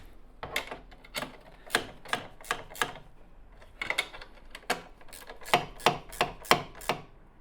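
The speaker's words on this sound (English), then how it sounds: "Next, with your 13mm spanner, secure the bolts." A 13mm spanner tightens bolts on a Royal Alloy GP350 scooter, giving a run of sharp, evenly spaced metallic clicks and ratchet-like ticks, close up and with no talk.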